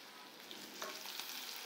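Onion sizzles in hot oil inside a cooking pot, a steady close hissing crackle with a few sharper pops and no voices.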